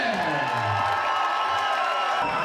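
Cheers, whoops and applause rise from the crowd at a Midwest Cage Championship MMA event as fighter Ronnie Britt is announced, a steady, close roar throughout.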